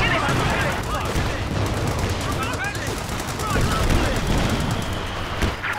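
Continuous machine-gun and rifle fire crackles across a Company of Heroes World War II battlefield, steady and loud throughout, with shouted voices mixed into the combat din.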